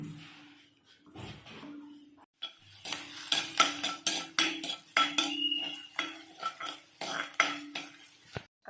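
Green chili, ginger, curry leaves and garlic are sautéed in a pan with a metal spoon, rapid scraping and clinking strokes in an uneven rhythm over a faint sizzle, close up with no talking.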